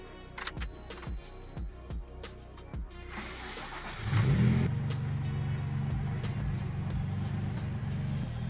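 A classic car drives by, its engine starting out quiet and then swelling into a loud, steady mid-pitched drone that holds close and sustained for several seconds, with clicks and knocks earlier on and no voices.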